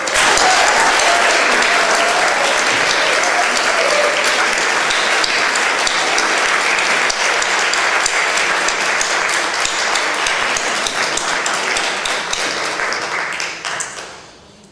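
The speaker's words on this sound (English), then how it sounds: "Please give a round of applause warmly to Thomas Maurice." Sustained audience applause at an award ceremony, a dense roomful of clapping hands that holds steady and loud for many seconds before tapering off at the end, with faint voices beneath.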